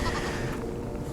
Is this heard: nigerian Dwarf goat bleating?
yes